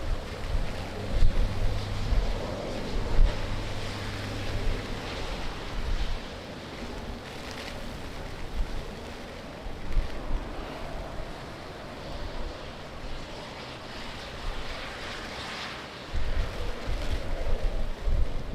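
Strong wind roars and buffets the microphone at Lisbon Airport, a steady loud rush with gusting swells and low rumbling bursts throughout, no voices.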